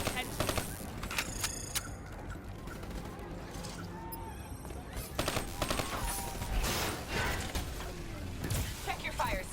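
Bursts of gunfire in the Call of Duty: Black Ops 3 campaign, rapid automatic volleys and single shots that recur across the stretch, loud and close, with faint game voices underneath.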